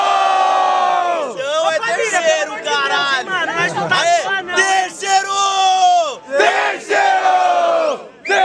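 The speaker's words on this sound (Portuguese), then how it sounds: "muito barulho pra quem gostou das rimas do Muhan" Crowd at a rap battle in Guarulhos erupting in loud shouting, cheering and chanting voices, sustained across the whole stretch with brief dips between bursts of yelling.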